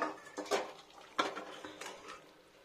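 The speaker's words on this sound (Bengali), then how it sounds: "এবার কড়াই থেকে ঢেলে নিই এটাকে।" A few sharp metallic clanks and scrapes of a utensil against a wok as vegetable shukto curry with bitter gourd, eggplant, raw banana, potato and lentil dumplings is poured out, close and fairly quiet, with short gaps between hits.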